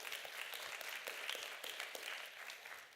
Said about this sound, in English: So another round of applause, please, for Jonathan.